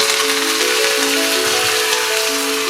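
Curry leaves sizzling in hot coconut oil, a loud steady hiss of frying that holds evenly from start to finish, with a faint tonal hum underneath.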